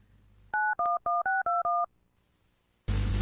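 A telephone number is dialed on a keypad: a quick run of seven steady touch-tone beeps, clear and close, followed by a short pause and then a burst of loud noise.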